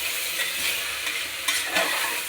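Chopped tomato and spices roasting in a pan while being stirred, a soft continuous sizzle with scraping spoon strokes, close and fairly quiet.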